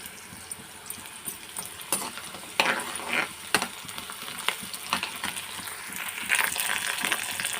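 Tempering seeds sizzle and pop in hot oil for a cauliflower curry, sharp crackles and spits bursting irregularly over a steady hiss, close and fairly loud.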